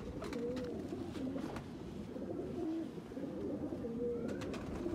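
A female Teddy breed pigeon coos softly in a series of low, rolling calls close by, with faint rustling and a few higher bird chirps in the background.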